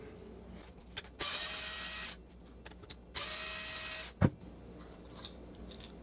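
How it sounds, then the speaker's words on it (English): Small retainer screws being backed out of a Onewheel GT with a powered driver, two separate whirring bursts close by, followed by a sharp clack. "We're gonna wanna remove these 2 screws."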